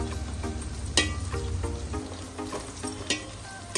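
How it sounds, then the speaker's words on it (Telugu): Chopped onions and chillies fry in hot oil for Nellore chicken biryani, giving a steady close sizzle with occasional sharp scrapes and clinks of a stirring spoon against the pan. "ఆనియన్స్ అన్ని లైట్ బ్రౌన్ అయ్యే వరకు ఫ్రై చేసుకోవాలండి."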